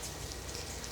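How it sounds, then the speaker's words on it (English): Steady rain during a thunderstorm, a dense, even hiss of drops falling continuously on outdoor surfaces, with no voices and no distinct thunder in this short moment. "He's trying to open the door so he can go outside in the rain."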